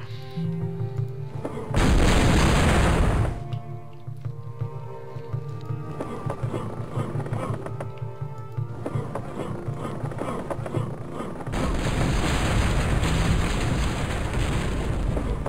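Heavy booming cannon blasts in the video game The Iron Plague ring out over steady game music: one short burst early on, then a longer rumbling roar that carries on to the end.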